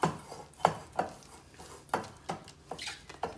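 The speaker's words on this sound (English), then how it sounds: "And kind of mix it by scraping the sides down" A utensil mixes Dutch baby pancake batter in a bowl, scraping the sides with a series of distinct close taps and scrapes at an uneven rhythm.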